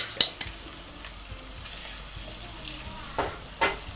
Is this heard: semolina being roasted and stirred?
yes